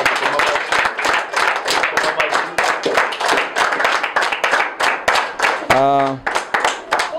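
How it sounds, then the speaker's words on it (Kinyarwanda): An audience claps hands at a church gathering, a run of steady rhythmic claps loud and close, with a brief voice breaking through near the end. "Reka dukoma amashyi basi."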